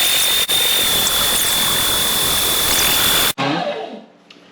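Meat grinder running a second pass of venison with pork belly, a steady loud motor whine with a high tone that cuts off abruptly and spins down into quiet.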